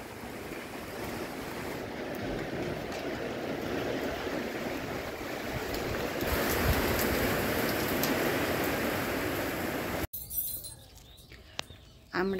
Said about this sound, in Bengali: এখন এই বৃষ্টি পড়ছে, নিশ্চয়ই দেখছেন, ভালোই বৃষ্টি আসছে, আওয়াজও শোনা যাচ্ছে।